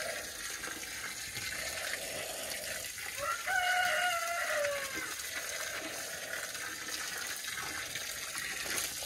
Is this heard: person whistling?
no